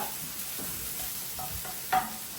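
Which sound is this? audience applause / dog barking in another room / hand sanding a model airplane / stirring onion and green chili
stirring onion and green chili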